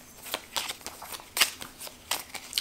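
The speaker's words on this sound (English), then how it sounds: "I'm gonna just shuffle these up." A deck of playing cards is shuffled for a tabletop game, a series of crisp riffling bursts in uneven rhythm, close and clear with no talk.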